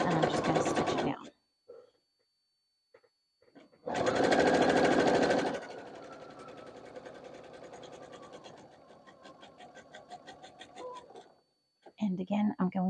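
A sewing machine stitches fabric for a zipper pouch, running in several close bursts: a short one, a long fast run, then a steady slower stretch, with brief pauses and a final start.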